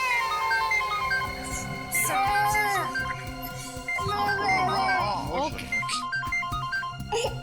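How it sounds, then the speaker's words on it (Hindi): A phone ringtone plays a bright electronic melody with warbling, sliding tones, repeating over a background of dramatic music. "एसपी साहब का फोन।"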